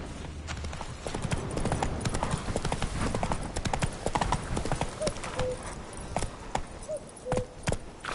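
Horse hooves trotting in The Witcher video game, a steady close clip-clop of hoofbeats on the ground with a brief whinny partway through.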